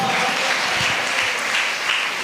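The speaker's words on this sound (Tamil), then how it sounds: "கொஞ்சம் கைத்தட்டி நல்ல ஸ்தோத்திரம் பண்ணுங்க" Congregation clapping during a Tamil Christian church sermon: steady, dense applause, loud and sustained for a couple of seconds with no talk over it.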